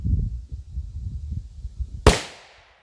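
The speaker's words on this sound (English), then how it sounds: "6 rounds of 10mm over the chronograph. 140 grain." A 10mm pistol with a 6.5-inch KKM barrel fires a 140-grain Underwood round over a chronograph: one sharp, loud, close crack with a brief fading tail, after a few seconds of low rumbling background.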